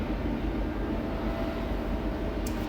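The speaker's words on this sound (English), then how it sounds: "got the train going by the house here" A train passes near a house, a steady low rumble and broad roar holding constant throughout, fairly loud and with no talk.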